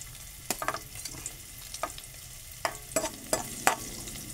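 Curry leaves and masala spices dropped into hot oil, a soft sizzle broken by sharp pops and crackles scattered every half second or so, with no talking.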